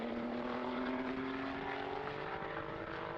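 A Renault RS01 race car's engine accelerates on the Mugello circuit during a GT endurance race, a loud, steady high-pitched drone with a rising tonal whine that fills the whole clip.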